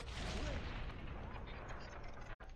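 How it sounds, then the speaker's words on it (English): A distant explosion in the video game Tacoma, a dense broadband rumble that swells and holds steady for a couple of seconds before cutting out abruptly. "then the distant explosion happens"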